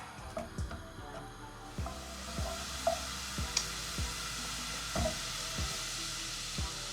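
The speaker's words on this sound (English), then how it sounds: "So melt that butter." Butter melting in a pan for a fried mac and cheese roux: a faint, steady sizzle with soft crackles and occasional light clicks and taps, close by and without talk.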